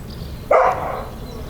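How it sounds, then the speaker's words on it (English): A single short dog bark, moderately close and loud, rising out of a quiet outdoor background and fading quickly. "Dogs."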